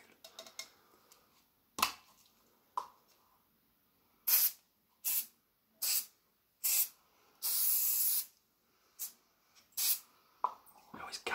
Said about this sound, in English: I always gas myself out nearly when I'm spraying these. Spray about half a bottle.